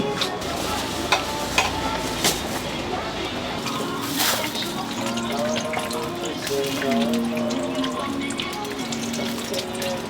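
Tteokbokki stir-fried in a pan at a street food stall near Ansan Jungang Station, with a steady scraping, stirring sizzle under ongoing talk and background bustle.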